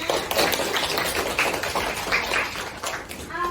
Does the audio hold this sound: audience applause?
yes